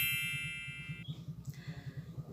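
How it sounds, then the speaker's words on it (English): A faint, bright metallic xylophone note tinkles and rings out, fading within about a second over a soft, low pulsing background. "Xylophone tinkling."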